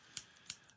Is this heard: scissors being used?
yes